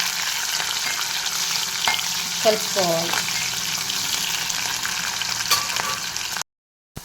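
Green chilies and onion sizzle steadily in hot oil in a pan while being stirred, a constant close frying hiss with a few brief scrapes, ending abruptly.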